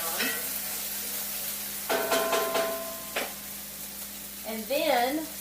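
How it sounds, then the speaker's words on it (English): Vegetables sizzle and pop in hot oil in a pan while being stirred, with a steady frying hiss, clustered crackles, and a scraping stir in the middle; a brief voice-like tone is heard near the end. "So I'm just going to stir that around a little bit. It is popping on me"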